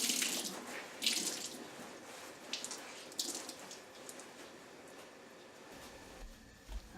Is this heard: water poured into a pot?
yes